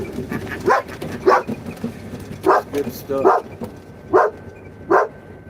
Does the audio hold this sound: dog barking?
yes